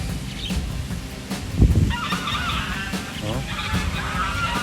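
A flock of geese honks in repeated nasal calls at a park and zoo, fairly close, with a brief voice exclaiming partway through.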